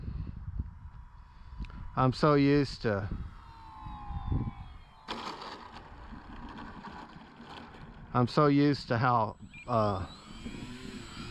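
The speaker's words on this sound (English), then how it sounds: "I think it's just the sound of a balsa plane." A Dancing Wings Hobby Stick 14 balsa model airplane flies overhead, its propeller giving a steady buzzing drone that rises and falls in pitch, heard under someone talking close by.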